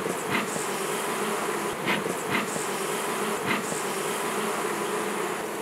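Honeybees buzz at a hive in the mountains around Penjwen, a dense, steady drone of many insects close by, with a few individual bees whizzing past now and then. No voices.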